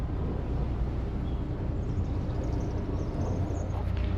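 Riverboat engine idling at about 600 revs while cruising down a river around seven miles an hour: a steady, dense low rumble that stays constant throughout, close and even, with no talk.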